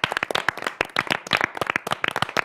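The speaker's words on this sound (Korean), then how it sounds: "우리 모두에게 박수!" A small group of NCT 127 members claps together in a dense, quick patter of close, bright hand claps that runs steadily for a couple of seconds, marking the end of their tour during a live commentary session.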